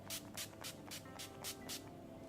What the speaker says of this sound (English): So just use a little bit of setting spray and apply this to your face.